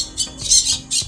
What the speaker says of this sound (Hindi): ये जो तोते का आवाज़ है